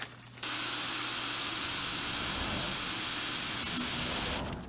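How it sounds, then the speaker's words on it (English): A can of disinfectant spray fires a single continuous, loud hiss into a barely opened Ziploc plastic bag, lasting about four seconds before stopping abruptly. "Take your disinfectant spray"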